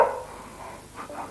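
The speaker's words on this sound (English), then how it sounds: "I don't like nasty dogs that bark" A single dog gives a short, faint bark, with a couple of softer yips after it, in a children's television show.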